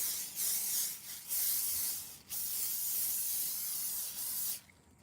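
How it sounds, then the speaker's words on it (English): A sustained hissing spray from an avocado oil aerosol can, delivered in a few long bursts with brief breaks, close by. "hit it with some avocado spray. Nice and even."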